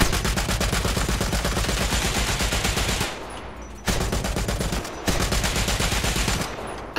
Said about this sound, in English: Gun sounds are amazing.